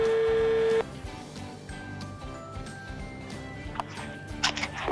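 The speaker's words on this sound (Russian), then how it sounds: "Попробуем до него дозвониться." A telephone number dialed with DTMF keypad tones: a steady tone at the start, then a quick series of short beeps, with faint background noise and a brief murmur of speech.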